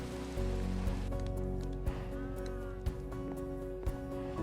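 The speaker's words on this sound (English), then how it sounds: "I have heard enough raindrops in this world already" Steady rain patters in the Minecraft world, a soft continuous hiss of drops with faint ambient game tones underneath and a few quiet clicks, no talking.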